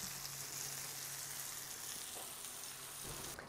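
Apples and onions sizzle in a pan, a steady soft crackle of frying that stays even throughout, quiet and close with no voices.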